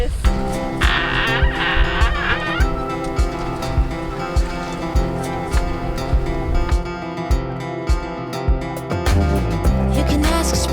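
Geese near a sailboat channel honk repeatedly in loud, close, rhythmic bursts over a steady, constant background.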